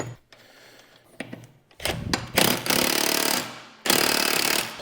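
A power tool buzzes in several loud, close bursts while tightening bolts on a John Deere zero turn mower, with short pauses and clicks between the runs.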